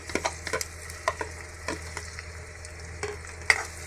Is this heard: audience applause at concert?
no